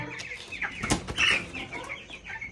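Chickens cluck and squawk close by in a small backyard flock, with overlapping calls and one louder, higher cry in the middle.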